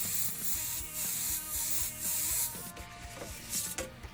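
Airbrush spraying paint to make fish scales gives short repeated hissing bursts of about half a second each in a steady rhythm, close and fairly quiet, followed by softer scraping and shuffling.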